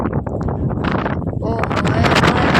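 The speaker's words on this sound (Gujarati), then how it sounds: "ઠંડો પવન આવ્યો" Loud wind buffets the microphone in a constant roar, gusting stronger toward the end, with faint voices underneath.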